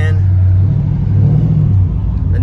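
A 2-valve Saleen Mustang with louder mufflers idles and revs close by, a deep steady exhaust rumble with a brief throttle swell, and a voice can be heard faintly.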